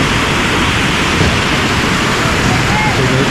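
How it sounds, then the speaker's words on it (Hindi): A waterfall near a bridge on the mountain trek to Hemkund Sahib roars in a loud, steady broadband rush that fills the whole moment without pause. "ये रहा झरना,"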